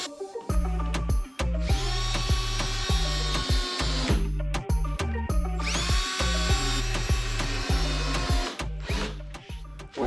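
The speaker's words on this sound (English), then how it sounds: "you're going to want to take out a drill and start drilling the plank into the beams" A power drill drives 2.5-inch screws into a wooden plank, whirring in quick, rapid pulses across two long runs, up close with no voices.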